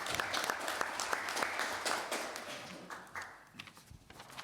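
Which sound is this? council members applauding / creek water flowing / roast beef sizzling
council members applauding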